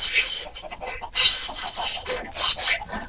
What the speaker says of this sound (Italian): vi faccio vedere come fanno i polli a bruciare